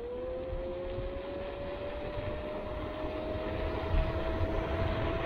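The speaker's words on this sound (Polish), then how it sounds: "faktycznie silnik dosyć mocno buczy" A Shift Seven L6 electric scooter motor hums as the rider speeds up from low speed, a steady tonal whine rising slowly in pitch over constant road and wind rumble, with no talk.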